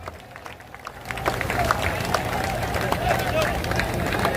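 A large crowd at a party founding convention in Patna breaks into applause, quiet at first, then swelling into dense, sustained clapping with voices mixed in.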